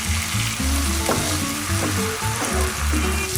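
Spice masala for a catla fish curry sizzles hard in a pan as small splashes of water hit it, a loud, close, continuous crackling hiss with stirring scrapes.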